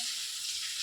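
Food frying in a pan with salt and turmeric gives a steady, close, hissing sizzle that holds evenly throughout with no talking.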